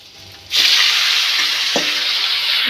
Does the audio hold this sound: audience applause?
no